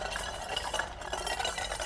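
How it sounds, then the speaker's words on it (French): Small saucepans rattle and clank together continuously at close range, a busy metallic jangle with steady clatter and no pauses. "Bah oui, mais c'est mes petites casseroles, quoi."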